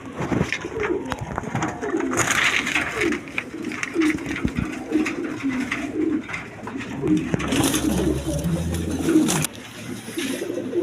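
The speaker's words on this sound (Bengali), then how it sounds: "কবুতরটা ডিমে চলে আসছে এর জন্য ঠোকরা ঠুকি করতেছে দেখেন" Pigeons coo steadily in a pigeon loft, with a bird near its eggs pecking at another; the rolling coos are close and continuous, with flutters and scuffles across the clip.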